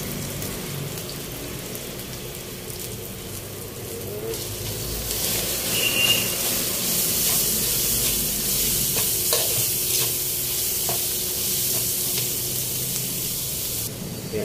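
Ground meat sizzles and crackles in a pan with garlic and onion while being stirred, a continuous close frying hiss with scraping stir sounds that grows brighter partway through, no voices heard.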